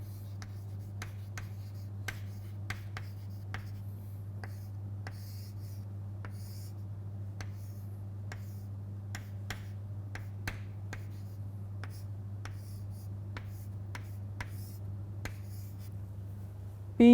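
Hand-drawing a forward-bias diagram of a P-type and N-type semiconductor junction: a steady series of crisp, close pen or marker strokes tapping and scratching on a surface, over a constant low hum, with no talking.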